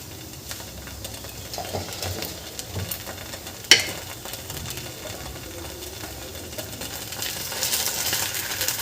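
A garlic-leaf ayate crepe cooks under a lid in a pan, giving a steady soft sizzle with faint crackles throughout and one sharp clink partway through.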